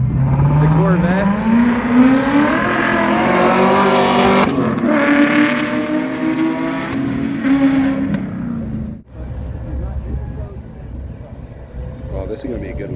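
Camaro and Corvette accelerating hard in a no-prep street race, loud engines rising steadily in pitch over several seconds, then a cut and a rougher fading roar, with people talking over it.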